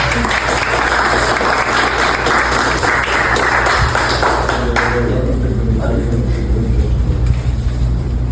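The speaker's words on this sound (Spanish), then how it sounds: "Un aplauso para él." An audience at a Cuban exile community event applauds a man who reads the names of victims of communism, loud steady clapping that thins and fades in the last few seconds over a low background hum.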